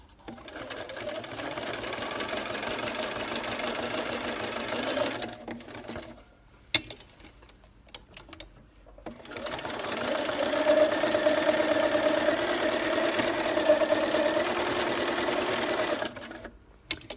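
A sewing machine with an embroidery foot stitches a scallop lace hem edge, running in a steady rapid whir, pausing for a few seconds with faint clicks near a seam, then resuming loud and continuous.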